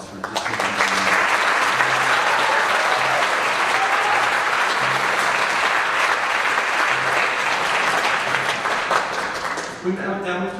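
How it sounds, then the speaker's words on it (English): Sustained audience applause fills a high school spring concert hall, loud and dense throughout, tapering off near the end as a voice begins speaking. "if everyone could give these guys one more round of applause"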